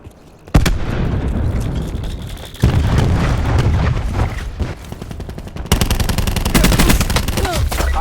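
Dense bursts of automatic gunfire and booming cluster-grenade explosions from Call of Duty: Black Ops 4, loud and continuous with rapid shot rattles, heavier blasts kicking in partway through, and faint talk underneath.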